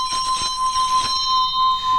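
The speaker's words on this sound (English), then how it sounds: "If I take the clapper and rub it on there, around and round, listen to what the bell does." A singing bell being rubbed round its rim with its own clapper gives a loud, steady ringing tone with higher shimmering overtones, plus faint scraping from the rubbing, and no one speaks.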